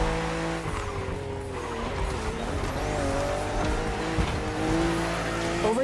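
BMW race car in The Crew Motorfest, engine droning steadily at high revs with shifting pitch and tire squeal on a narrow, twisty road, loud and continuous throughout.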